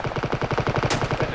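Rapid automatic gunfire in the mobile video game Battlegrounds Mobile India, a close, loud burst of evenly spaced shots firing continuously without pause.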